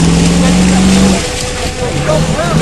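A Land Rover Defender with a V8 petrol engine roars loudly nearby, holding a steady high rev that then drops and changes pitch.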